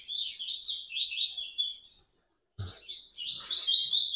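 A young coleiro (double-collared seedeater) chirps in quick, high, rapid twittering runs close by, broken by a brief silence before resuming with a short thump.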